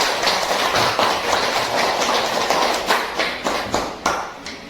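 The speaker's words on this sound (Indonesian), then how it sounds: "Tepuk tangan buat kelompok 1" Classroom applause for a student group, a dense wash of many hands clapping steadily, loud and close, with the rhythm growing more distinct toward the end.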